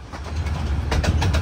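Miniature steam train rolling along the light railway from Hythe to Dungeness, a steady close rumble of wheels and carriages with faint rhythmic clatter and no voices.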